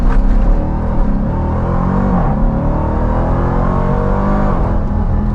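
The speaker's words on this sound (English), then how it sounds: "what's the way to start a drive than putting it into launch control" A 2023 Dodge Durango Hellcat with a 710-horsepower engine launches hard from launch control, its loud, close engine roaring and climbing in pitch through the gears.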